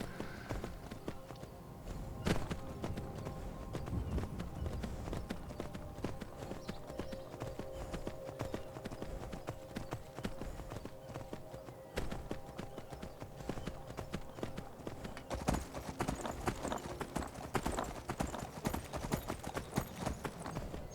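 Steady clip-clop of horse hooves trotting in Skyrim Special Edition at a brisk, even rhythm, continuous throughout with a faint ambient background.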